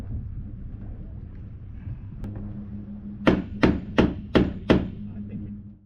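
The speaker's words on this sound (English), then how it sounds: "after about an hour of wrenching, prying, and hammering, we have gotten it done." Hammering on a sailboat's metal frame gives five sharp, evenly spaced metallic strikes that follow a single earlier tap, all heard over a low wind rumble.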